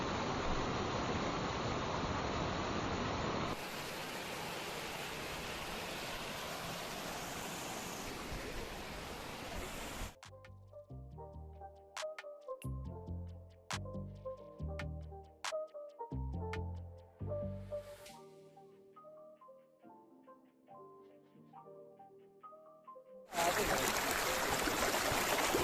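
Waterfall water at Fairy Meadows below Nanga Parbat pours as a steady broadband rush for about ten seconds, gives way to melodic instrumental notes, then the water roar returns near the end.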